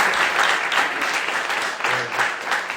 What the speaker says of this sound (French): On peut les applaudir quand même, encore une fois très fort.